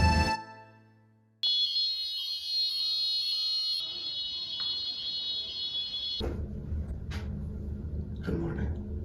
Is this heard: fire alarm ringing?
yes